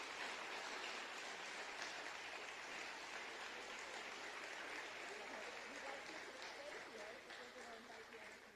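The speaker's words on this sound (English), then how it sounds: "So we give these ladies a round of applause." An audience applauding ladies at an induction ceremony, dense sustained clapping from a crowd that carries steadily for several seconds before slowly tapering off.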